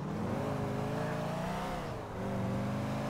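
A car driving in the video game GTA IV, a steady loud engine drone with gentle rises and falls in pitch as it cruises, with no voices.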